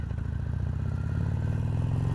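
A Harley-Davidson Roadster XL1200CX motorcycle under way, its V-twin thumping in a fast steady pulse with a slight rise in pitch, loud and close with wind rush and no talk.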